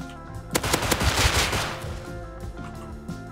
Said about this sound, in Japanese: 花火上がってる。